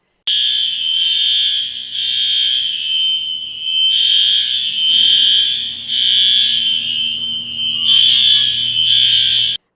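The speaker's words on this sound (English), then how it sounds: "the fire alarm went off" A loud, shrill building fire alarm blares continuously in pulsing rhythmic bursts, close by, with no voices.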